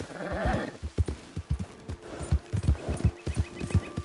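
Hooves of a ridden horse in Red Dead Redemption 2, a rapid run of clip-clop thuds under a music bed, close and fairly steady.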